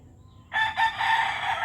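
A rooster crows loudly and close by on a farm where chicks are being fed, a single strained call that starts abruptly after a short quiet moment.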